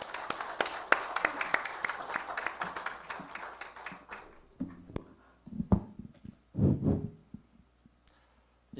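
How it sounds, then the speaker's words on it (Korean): An audience claps to welcome a speaker to a lecture hall, with dense applause for about four seconds. It then thins to scattered claps and fades, followed by a few soft, low sounds in the quiet room. "뜨거운 박수로 맞이해 주시기 바랍니다"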